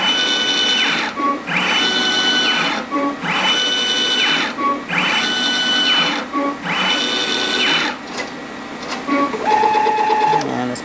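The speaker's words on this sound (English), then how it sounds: "You see the pumps initializing back here." Pumps on a Perkin Elmer JANUS AJM8001 8-tip Varispan automated liquid handling workstation initialize with a loud, repeating whine, rising and falling in regular cycles of about two seconds, then a steadier motor hum at the end.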